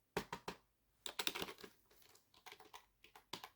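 Keys clack on a computer keyboard hooked to a Dell OptiPlex thin client, short bursts of crisp taps with a quick flurry in the middle and brief pauses between, close and clear with no talking.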